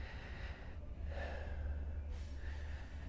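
Two slow, deep breaths are drawn in and pushed out during a golf warm-up stretch with a club across the shoulders, heard close and soft against a low steady hum.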